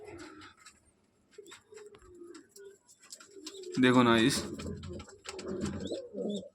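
A female pigeon coos in low, throaty bursts, loudest midway, while someone talks intermittently nearby.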